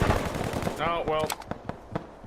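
Automatic gunfire in a first-person shooter video game, a rapid burst of shots up front followed by scattered single reports, with someone talking over the first part.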